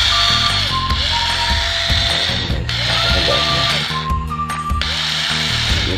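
A cordless electric screwdriver runs loud and close in several bursts, its motor whirring with a ratcheting clutch clicking as the pitch rises and drops between runs.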